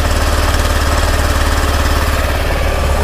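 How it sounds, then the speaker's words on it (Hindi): A 2023 Honda Activa H Smart scooter engine idles close by, a loud, steady low mechanical putter with a fast, regular pulse and no voices. "ये गाड़ी स्टार्ट हो गई है। तो इंजन का आप साउंड सुन सकते हो"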